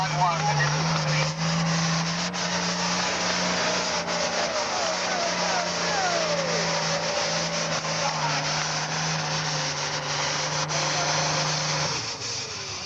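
A super farm tractor pulls a sled at a 1998 tractor pull in Earlville, Iowa, its engine roaring in a loud, sustained, heavily strained drone for about twelve seconds before it drops away.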